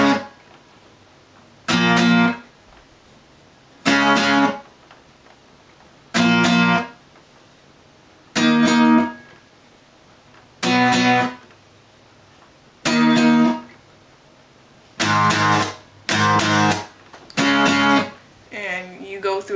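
An electric guitar plays the intro and verse of a song in loud, evenly spaced strummed bursts separated by short gaps, with the chords coming quicker near the end.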